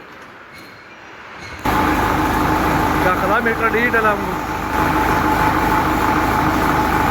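A tractor engine on a farm starts up abruptly and holds a loud, steady, close rumble, while someone talks over it.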